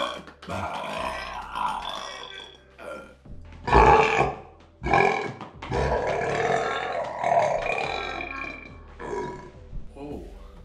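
Several deep, rasping burps come in bursts during a burping contest, close and loud, mixed with grunting and some talking between them.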